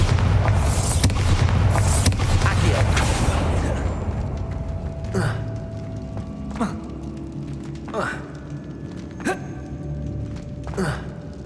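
Booming spell blasts from Bombarda in Hogwarts Legacy: a dense rumbling burst up front, then several sharp repeated impacts at roughly even intervals over a low background hum.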